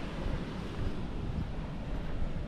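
Waves wash onto a beach at Broome in a steady broadband roar, with wind buffeting the microphone and no voices.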